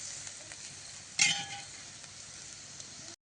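Drumstick pod curry with water simmering in a pan, a quiet steady sizzle with one brief louder clatter of utensils near the start, then cutting off abruptly.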